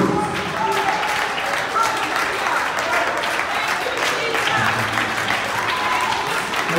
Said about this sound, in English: go ahead and clap your hands and give God the praise.